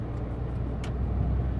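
A Maruti Alto K10 petrol hatchback drives along after a U-turn, heard from inside as a steady low engine and road rumble with a brief faint click and no talking.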